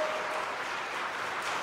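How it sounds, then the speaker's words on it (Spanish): An audience at a Spanish-language Catholic talk bursts into steady, full applause, a dense wash of clapping held at an even level from start to finish. "Un aplauso a Dios por esta cultura."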